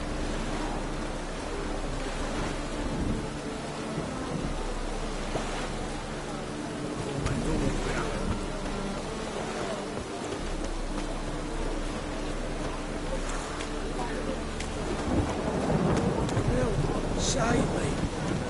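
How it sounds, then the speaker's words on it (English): Steady rain with low rumbling thunder and gusty wind in The Witcher 3: Wild Hunt, a continuous broadband wash with swelling rolls toward the end. "Must like the rain."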